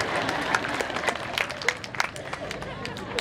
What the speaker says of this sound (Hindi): तुम्हारे बारे में बोल रहा हूं तो ताली तो जरा ढंग से बजाओ